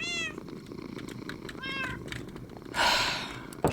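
A cat in a video game meows several times in short, rising cries, with a breathy burst near the end, heard over a steady background hum.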